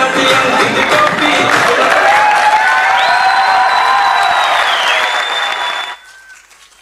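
Audience applause and cheering after a tableau by grammar school children at the Arts Council in Karachi, dense clapping with whoops under festive music and a shouting voice, cutting off sharply near the end.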